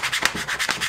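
Firm rubbing of a vinyl Iron Man car decal with a plastic room key card, repeated scraping strokes in quick, close succession, loud and steady with no talk.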